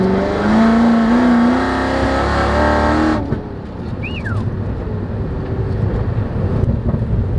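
A C7 Corvette Z06 engine revs hard and climbs in pitch for a few seconds, then cuts to a lower rumbling drone with road and wind noise.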